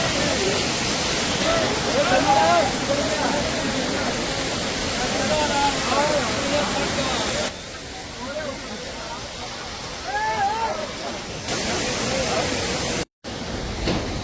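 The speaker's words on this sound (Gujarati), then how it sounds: "અહીંયા એક મસ્ત ઝરણું પડે" A waterfall along the Kedarnath pilgrimage route roars as a dense, continuous rush of water, loud and close, while a person talks over it and the level briefly drops and returns.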